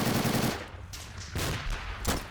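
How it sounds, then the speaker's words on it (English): An AA turret in the video game Army Men: Plastic Wars hammers away at soldiers in loud, rapid machine-gun bursts, three close clattering volleys separated by short gaps, with no voices. "there's the AA turret laying down the works to these guys over here"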